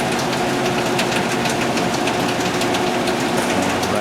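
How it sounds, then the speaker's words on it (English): The flywheel of a 41.5 by 21 inch Tannewitz RH vertical band saw spins with no blade fitted. It gives a steady, loud mechanical hum and rattle with faint rhythmic knocking, continuous from start to finish. "without a blade on it, there's really not much to these saws, but the flywheel is going."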